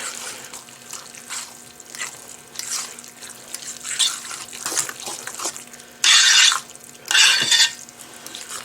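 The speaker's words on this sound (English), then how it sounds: "See how many times I can wash my hands." Hands washed under a running kitchen tap while cooking guacamole, with faint intermittent trickling and splashing that builds to two loud bursts of gushing water near the end.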